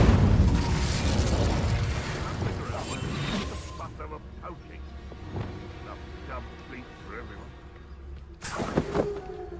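Spell effects from the Hogwarts Legacy video game, including a fire spell cast, a dense roaring burst that fades into softer crackles and pops, then a sharp flare near the end, with a voice speaking.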